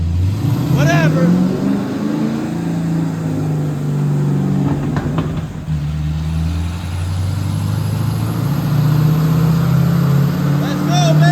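Firebird fitted with Corvette parts makes a full-throttle nitrous pull, its engine roaring loud and steady from up close with rising pitch as it accelerates, while people talk over it.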